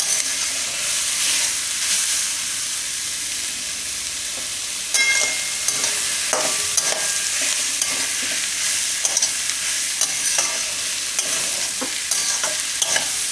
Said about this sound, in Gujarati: વચ્ચે વચ્ચે હલાવતું રહેવાનું આ રીતે. બે મિનિટ આને પકાવી લેવું.